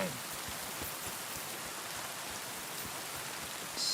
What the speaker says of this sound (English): Corva, rain again.